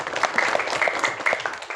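Students in a classroom clap for a classmate, a short, light round of hands with a few distinct claps standing out, fairly close and moderate in level.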